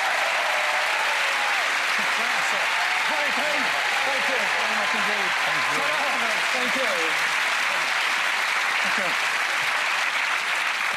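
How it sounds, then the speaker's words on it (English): Studio audience applause for the magicians Penn and Teller on a TV magic show, a long sustained wash of clapping and cheering with someone speaking over it. "A nice round of applause for Penn and Teller"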